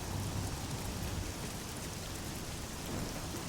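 Steady, dense rain hiss from the video game Oblivion, falling continuously at moderate level with low rumbling underneath and no voices.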